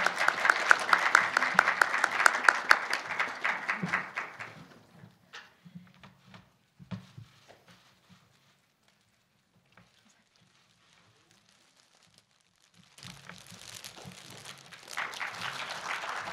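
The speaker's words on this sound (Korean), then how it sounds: "큰 박수 부탁드립니다." A film award ceremony audience applauds a Best New Actress winner: dense clapping for about four seconds, fading to near silence with scattered faint sounds, then a fresh burst of applause returns near the end.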